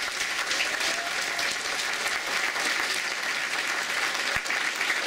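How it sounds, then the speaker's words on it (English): Steady, dense applause from a large audience at a City of Heroes Freedom player summit, filling the whole stretch evenly at close range with no voices standing out. "Give a round of applause."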